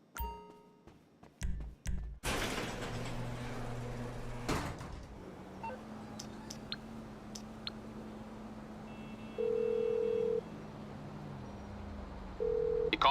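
A mobile phone call to a mechanic in the video game GTA 5, with clicky menu taps and thumps followed by a steady ringing tone sounding in two beeps over low game ambience.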